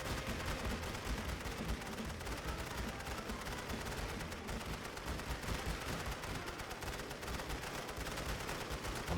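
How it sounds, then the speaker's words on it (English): Sustained machine gun fire rattles on without pause in The Great War Western Front, a World War I strategy game set at the Second Battle of Champagne, dense overlapping bursts forming a steady wall of battle noise. "Machine guns, do your jobs."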